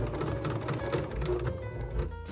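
Sewing machine back stitching a zippered pouch, a rapid steady mechanical whirring and clatter that runs continuously before slowing at the end.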